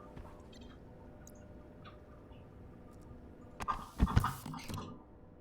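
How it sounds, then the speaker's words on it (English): Pet birds in a home chirp in brief scattered calls, with a busier cluster of sharp chirps toward the end, fairly close but not loud against a low background hum. "I hope you heard I have birds."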